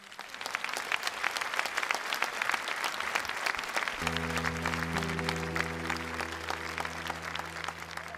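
Steady applause from a concert crowd at Calella de Palafrugell, dense rapid clapping that carries on throughout, with a low sustained musical tone coming in partway through.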